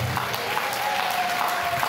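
A church congregation claps together in a dense, steady round of applause that fills the room, close and continuous, with a faint voice underneath.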